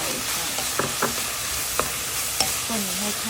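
Red beans being stirred into cooked minced beef in a pan for chili con carne, a soft steady sizzle with a few sharp scrapes of the utensil against the pan.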